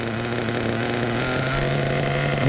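Kyosho nitro RC car engine idling with a steady, buzzing drone that holds constant and loud close by, with no voices.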